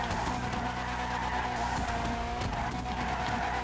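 Steady engine roar with continuous tire skidding as an Annis Hardy, the Nissan Laurel C33 of GTA 5, slides through a drift, loud and unbroken from start to end.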